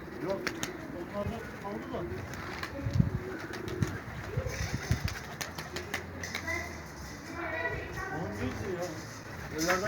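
Pigeons coo and flutter nearby while people talk over them, with scattered clicks and tapping sounds throughout.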